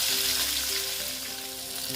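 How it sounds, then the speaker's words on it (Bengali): Snakehead fish (shol) frying in hot oil, giving a steady, broad sizzle that holds constant for two seconds, close and fairly loud, with no voices. "এবার মাছগুলো ভাজা হতে থাক"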